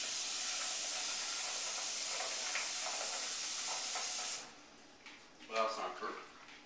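Water rushes from a tap into a pot of lentils as a steady broad hiss for about four seconds, then stops. Afterward come a few quieter splashes and stirring sounds, close and without talk.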